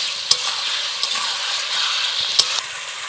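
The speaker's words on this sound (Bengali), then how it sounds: "একটু ভালো করে নাড়াচাড়া করে নেব।" Fish curry vegetables, ridge gourd and pumpkin with rohu, stirred in a pan over a steady sizzle, with a few sharp scrapes and clinks of the spoon against the pan, close and continuous without talk.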